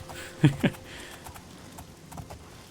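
A couple of quick hoof thuds from a galloping horse in the video game The Elder Scrolls IV: Oblivion land close together, followed by softer, scattered footfalls under a faint background hum.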